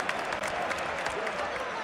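Steady audience applause, a dense even wash of clapping lasting the whole moment, fairly close and continuous without pauses.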